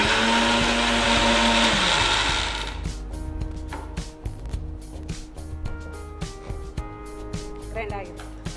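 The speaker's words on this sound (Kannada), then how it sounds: "ಈಗ ಗ್ರೈಂಡ್ ಮಾಡಿ ಮತ್ತೆ ಪುನಃ ಗ್ರೈಂಡ್ ಮಾಡ್ಕೊಳ್ಳೋದು" An electric mixer grinder roars loudly for a couple of seconds while grinding ginger, garlic and tomato paste, then cuts out, leaving people talking over light kitchen clatter.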